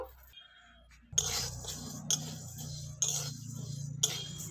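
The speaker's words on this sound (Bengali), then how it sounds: "এবার আমি শুকনো খোলায় মুগ ডালগুলোও ভেজে নেব।" Moong dal dry-roasting in an ungreased pan makes a faint grainy rustle, with sharp spatula clinks against the pan recurring about once a second.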